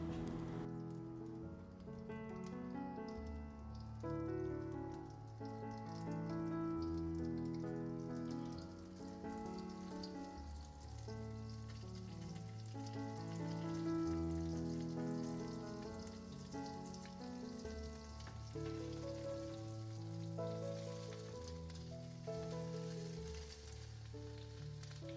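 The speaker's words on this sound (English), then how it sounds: "Dip the bread rolls in the prepared mixture and shallow fry them." Bread rolls dipped in a prepared mixture shallow fry in a pan, giving a steady, close crackling sizzle that runs throughout with no talking.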